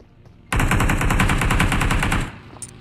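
Rapid automatic gunfire in a PUBG solo third-person match, a loud sustained burst of about two seconds with an even rhythm that starts abruptly and cuts off, with quiet game ambience before and after.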